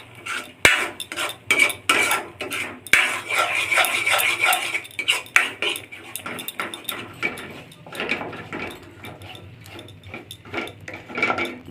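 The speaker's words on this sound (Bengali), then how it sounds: "খুন্তি দিয়ে চেঁচে চেঁচে এভাবে নামিয়ে দিব। সাবধানে নাড়তে হবে যাতে চিটে গায়ে না আসে।" A spatula scrapes and stirs milk thickening into kheer in a pan for sandesh, producing a steady run of close, busy scraping and clattering strokes against the metal with no one speaking.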